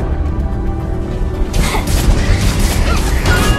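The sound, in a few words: tower destroyed in Arena of Valor video game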